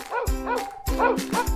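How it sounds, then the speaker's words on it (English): A dog barks four times in two quick pairs, close and clear, each bark short and tonal with a slightly yelping quality. "Dog."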